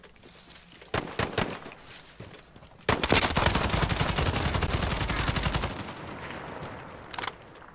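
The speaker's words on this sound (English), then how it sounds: "Someone else is shooting at us." Gunfire in Warzone, with a few scattered shots at first, then a long burst of rapid automatic fire that keeps going for several seconds before tapering off, loud and close with no talk over it.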